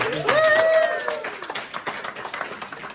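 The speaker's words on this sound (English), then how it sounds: "Let's give a round of applause to top producing silver associate, Miss Dawn Maree." An audience at an Austin Wealth Strategies training event applauds a top-producing associate; a brief rising vocal whoop opens over the start, then dense clapping continues steadily and fades slightly toward the end.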